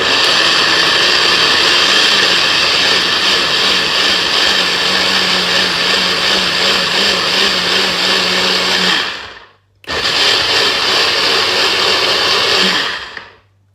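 Loud, close whir of a blender blitzing ingredients with water for a sweet and sour sauce, running steadily, cutting out briefly, restarting, then spinning down.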